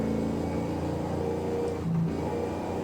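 Dodge Super Bee muscle car with a slow-shifting 4-speed in Forza Horizon 5, its engine a steady low droning rumble holding pitch with a slight rise, no voices.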